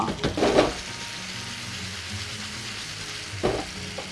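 Eggplant slices shallow-frying in a pan, a steady soft sizzle close by with a couple of brief scraping or shaking clatters near the start and end.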